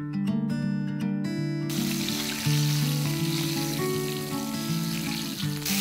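Pointed gourd pieces fry in oil with dried red chillies for Bengali dudh potol, a dense close sizzle running steadily under a sustained tonal hum, with a brief clatter at the start.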